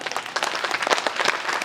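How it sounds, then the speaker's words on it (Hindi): Audience clapping at a poetry gathering in Laxman Puri Colony, Barabanki, a brief, fairly faint patter of many hands at an uneven rhythm, with no talk over it. "एक बार जितने भी लोग यहाँ बैठे हैं वो सब दोनों हाथ ऊपर उठा के ताली बजा।"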